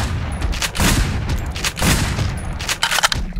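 Gunfire from shooting zombies in the game Aftermath cracks in repeated bursts, fairly loud, with rapid clustered shots and booming impacts across a few seconds.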